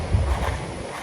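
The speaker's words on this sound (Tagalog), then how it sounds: "Malakas ang hampas ng hangin." Strong wind buffets the microphone with a low, blustery rumble and gusts, loud and continuous.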